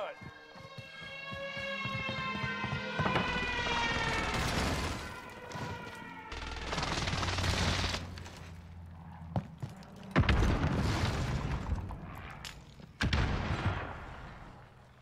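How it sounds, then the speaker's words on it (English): Enemy precision airstrike in a shooter video game, with a siren-like warning tone followed by bursts of loud explosions and rattling gunfire that come in waves, close and heavy. "Enemy precision airstrike."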